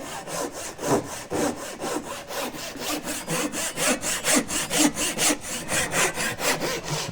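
A Japanese Ryoba or Dozuki pull saw cuts down through a wooden tenon, giving loud, steady rhythmic rasping strokes about three per second, close by and heard alone.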